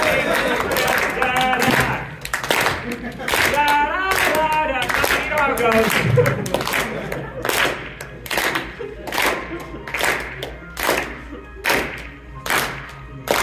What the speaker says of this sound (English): Now we can resume the clapping or whatever.